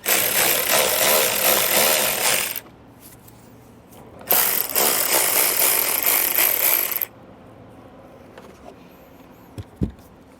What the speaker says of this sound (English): So we'll grab our socket here and get them removed.